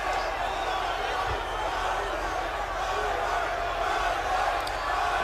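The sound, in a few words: live crowd noise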